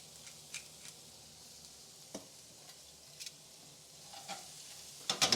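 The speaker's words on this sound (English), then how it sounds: "carrots, roughly diced, my pepper and my onion. And I'm just going to pop those all in there at the same time as well." Diced carrots, pepper and onion frying together in a pan, giving a low continuous sizzle broken by scattered utensil clicks and scrapes that grow louder near the end, close and without speech.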